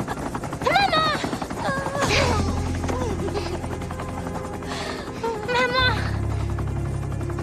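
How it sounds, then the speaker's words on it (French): A helicopter rotor drones steadily under a tense scene from a TV action drama, with a deep thumping engine throughout while people speak excitedly over it. "Allez, montez dans l'hélicoptère!"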